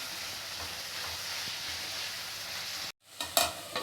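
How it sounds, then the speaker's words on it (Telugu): Onions fry with salt in a pan for an egg curry, a steady close sizzle that cuts out briefly before a few clattering knocks and stirring scrapes as the frying resumes, no talk. "కొంచెం సాల్ట్ వేసి బాగా మిక్స్ చేయాలి ఫస్ట్ కాటు తీసుకోవడం వల్ల ఆనియన్స్ చాలా త్వరగా ఫ్రై అవుతుంది"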